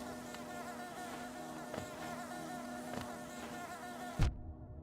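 Bees buzzing in the game Hollow Knight, a dense continuous droning hum with soft periodic pulses, cutting off abruptly into silence near the end.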